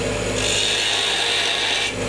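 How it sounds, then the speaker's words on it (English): A hand tool shaves excess wood from a bulb-shaped Christmas ornament turning on a lathe, making a steady, loud, close scraping rasp that runs without a break and has no talk over it. "I'm just taking away excess wood right now"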